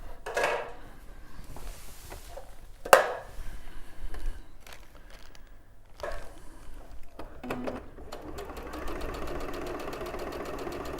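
A sewing machine fitted with a 1/4 inch foot runs in short bursts, then settles into a fast, steady mechanical stitching chatter close by, with a sharp knock early on.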